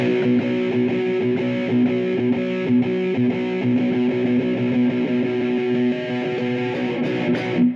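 An electric guitar plays the Geek part with steady, even strumming through a distorted tone, loud and continuous with a clear rhythmic pulse and no voice.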